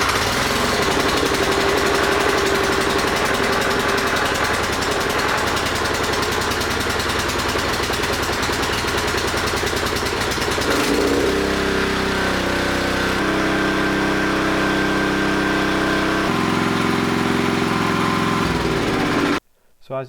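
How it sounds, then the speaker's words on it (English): A Honda HS622 snowblower engine idles steadily and loudly for a long stretch while warming up, its rumble shifting pitch partway through before cutting off abruptly near the end. "it's a good idea to start the engine and let it warm up a little bit"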